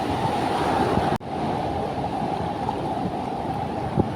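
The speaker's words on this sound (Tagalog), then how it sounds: "Halimaw yung mga alon dito." Big ocean waves roll steadily onto Bolinao beach in Pangasinan, a constant roaring surf mixed with wind buffeting the microphone. A sharp dip near the start briefly cuts the sound.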